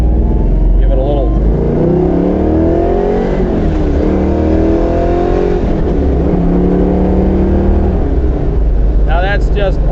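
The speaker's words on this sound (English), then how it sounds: "What a 302 motor is known for is the high winding RPMs." A 1968 Chevrolet Camaro Z/28 with a high-revving 302 V8 is blipped and revved, its engine note climbing in repeated rising sweeps, loud and close, with brief voices at the start and end.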